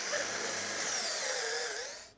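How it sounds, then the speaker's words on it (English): A power drill with a 9mm bit bores a hole through a timber corner piece for a bolt, a steady high whine running close and loud for about two seconds before winding down. "we're using a 9mm bit, and I'm going to go through the corner piece to drill a hole"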